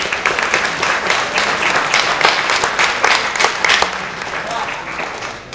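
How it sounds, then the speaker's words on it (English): A high school recruiting event audience applauds its instructors, a lively, fairly loud burst of many hands clapping with some crowd noise, holding steady before easing off at the end. "How about a round of applause for our instructors?"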